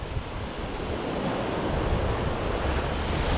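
Big sea swell washing against the Maltese coast near Xemxija, a continuous broad roar of surf, loud and close, with no voices.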